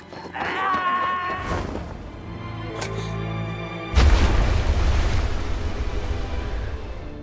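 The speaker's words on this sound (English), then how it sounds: "As Kay watched the explosion" A bomb explodes in a film scene with a sudden deep boom and a lingering rumble that roll on after it, following a stretch of tonal music and sound effects.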